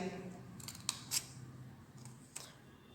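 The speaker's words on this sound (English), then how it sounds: "Cut it little bit more inside." Scissors snip paper for a Diwali pop-up card in a few quiet, close cuts, a handful of sharp clicks over a soft background hush.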